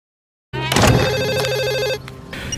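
An old-style telephone bell rings in a scene from an Indian film, starting abruptly after a moment of silence with a loud, sustained metallic trill that then cuts off, followed by a fainter tail.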